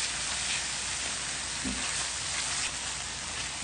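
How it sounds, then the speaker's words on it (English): Tomatoes, aji amarillo yellow pepper paste and oregano sizzle in a hot pan while being stirred, a steady crackling fry with soft scraping, close and continuous without talk. "Our yellow pepper paste, our aji amarillo, and our oregano. And we'll give that a good stir."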